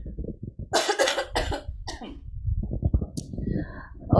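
Several loud, harsh coughs in quick bursts close to the mic, followed by a low murmuring voice and more rough throat sounds.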